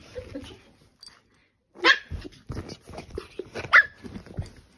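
A pug playing with a golden retriever makes scattered sharp yips and snorting, grunting noises, close and fairly quiet, with short gaps between bursts.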